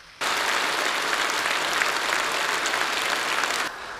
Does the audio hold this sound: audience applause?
yes